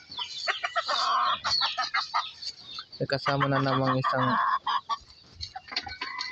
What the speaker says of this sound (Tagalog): mga alagang manok niya.